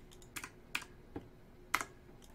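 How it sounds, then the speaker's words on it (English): Keys clack on a new computer keyboard in several separate sharp taps and short bursts with pauses between them, close and clear over a quiet background. "Got a new keyboard."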